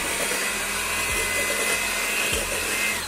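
Electric mixer creaming butter in a bowl for spring brunch baking: a steady loud whirring motor hum running throughout with two soft knocks, close by and without talk.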